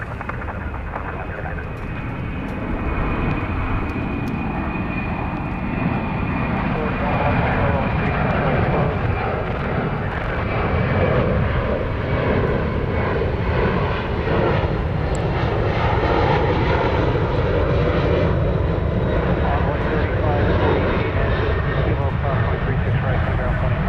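A UPS cargo jet climbs out on a high departure from DFW Airport at night, its engines a loud, sustained broadband roar that swells steadily over the whole span, with talk over it.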